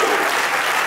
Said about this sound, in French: Applaudissez pour les impresarios.